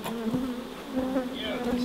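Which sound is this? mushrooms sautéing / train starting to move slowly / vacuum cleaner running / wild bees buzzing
wild bees buzzing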